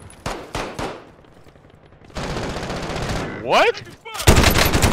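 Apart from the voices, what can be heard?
gunfire shooting the player in a video game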